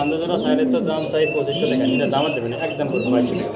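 Soft, throaty cooing from pigeons repeats in a steady rhythm nearby while voices talk in the foreground.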